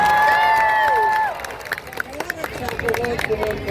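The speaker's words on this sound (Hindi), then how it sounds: "तालियां और हुटिंग एक बार जोरदार हो जाए।" A live audience at a Garhwali/Kumaoni folk singing stage event bursts into applause and cheering, a dense crowd roar of clapping and whoops that rises after a held tone and fills the rest of the moment.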